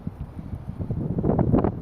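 Strong outdoor wind buffeting the microphone in a steady low roar with rising gusts toward the end, close and loud, no speech.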